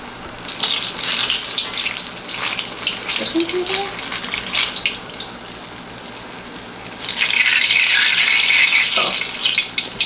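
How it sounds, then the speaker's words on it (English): Easter food frying in hot oil until brown and crispy, a steady loud sizzle throughout that swells stronger near the end, with a voice briefly heard over it. "we're gonna fry it for 3 to 5 minutes until it is brown and crispy"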